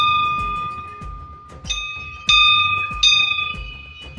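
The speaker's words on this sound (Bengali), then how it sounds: "সামনে এই তোরণের ওপরে আছে ঘন্টা, ঘন্টাটা একবার বাজানো যাক।" A temple bell hanging over the entrance gate of a Kali temple in Halisahar is struck several times, each bright ringing strike decaying with a sustained metallic hum, close and fairly loud.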